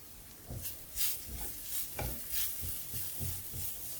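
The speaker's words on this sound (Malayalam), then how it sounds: "എല്ലാം കൂടെ നന്നായിട്ട് മിക്സ് ചെയ്യാം" Canned tuna thoran mix with chili flakes and pepper being stirred in a pan, soft rhythmic scraping strokes over a faint sizzle, close but quiet, with no voices.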